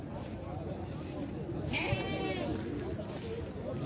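Sheep at a goat and sheep livestock fair give a single bleat over a steady murmur of crowd noise and outdoor bustle, heard at moderate distance.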